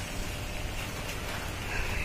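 Rain falls steadily in a continuous soft hiss at moderate volume, with no voices over it.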